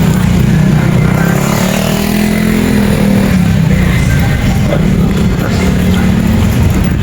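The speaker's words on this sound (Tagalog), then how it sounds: "Motor." A motorcycle engine drones loud and close without a break, mixed with rough road and wind noise in a steady, unchanging roar.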